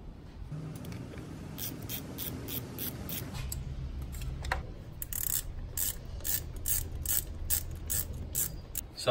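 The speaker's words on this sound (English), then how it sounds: "So you got to loosen that hose clamp as well." A hose clamp being loosened on a Nissan ZD30 diesel engine, heard as a run of soft, close metallic ratcheting clicks in quick repeated bursts over a faint background rub.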